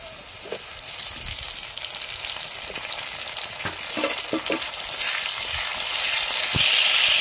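Garlic and ginger fry in a pan with tomato going in, giving a close, steady crackling sizzle that swells louder toward the end, with occasional stirring scrapes.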